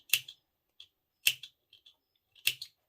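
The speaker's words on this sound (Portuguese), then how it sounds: "eu vou pegar a minha tesourinha e vou fazer piques aqui" Small scissors snip notches into the fabric seam allowance of a sewn bootie: three crisp, close clicks about a second apart, each followed by a softer tick, in an otherwise quiet room.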